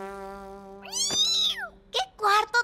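A cartoon cat meowing in a Spanish-language animated show, a long drawn-out mew followed by a couple of short chirpy meows, close and clear over a steady tonal background.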